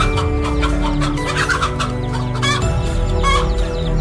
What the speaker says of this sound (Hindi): मुर्गी अपने बच्चों को बचाने के लिए एक खतरनाक सांप किंग कोबरा से भिड़ जाती है।